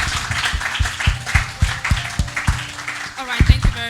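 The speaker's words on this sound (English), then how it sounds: "A round of applause for that." An audience at a talk on food production gives a short round of applause, with steady rhythmic clapping at moderate volume and a voice coming in near the end.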